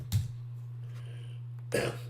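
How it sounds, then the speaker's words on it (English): Two short, sharp coughs, one at the start and one near the end, separated by a low steady hum. "Excuse my cough."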